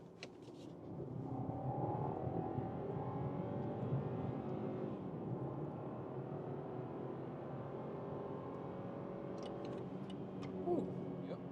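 A BMW 3 Series in sport mode accelerates from 50 to 120 km/h, its engine note rising steadily and shifting through the gears, heard fairly faintly from inside the cabin with brief voices near the start and end.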